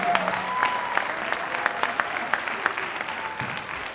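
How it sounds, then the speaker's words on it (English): Audience applause for the women attending a Friday night movement-building event, steady clapping from a crowd filling the room at moderate level, with a few sharper claps standing out and faint voices mixed in. "I want to please a round of applause for all of the women who have come"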